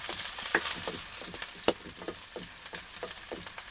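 Garlic and onion frying together in cooking oil for Ilocano igado, a steady close sizzle broken by repeated scraping stirs, with no talking.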